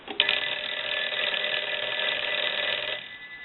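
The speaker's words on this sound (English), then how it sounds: "I'm going to go ahead and ring it." A Western Electric Spacesaver telephone's bells ring continuously for about three seconds after a brief click, a steady, bright metallic trill, fairly loud and close, with no talk.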